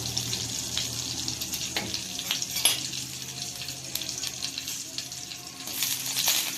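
Sev frying in ghee in a pan, giving a steady close crackle with scattered sharp ticks and small clinks throughout, no voices.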